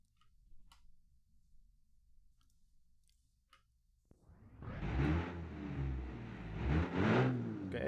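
A drag-racing AG Lavance 14CV with a 2.1-liter inline-six starts after a few seconds of near silence and faint ticking, then roars loudly and steadily, its revs rising and falling in close, powerful surges.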